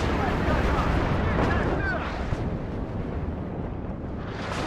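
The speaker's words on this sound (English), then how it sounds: "I've put artillery, like so much artillery towards this location" Heavy artillery fire and explosions in the strategy game WARNO, a dense continuous low rumble of blasts and distant booms that stays loud throughout, with a few sharper thumps breaking through.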